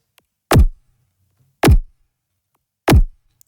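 Designed impact built from neuro bass sounds with effects applied, three loud, powerful hits spaced about a second apart, each a sharp attack sweeping down into a short low-end tail, with near silence between.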